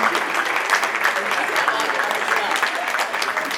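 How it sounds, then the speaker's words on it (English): A room of university staff at an all-staff meeting applauds themselves, lively, close, dense clapping that holds steady for several seconds, with a murmur of voices mixed faintly underneath. "give yourself a big hand clap"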